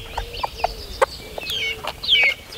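Farmyard chickens cluck in short, sharp bursts near at hand, along with higher squawks from a hen that has wandered away from her chicks.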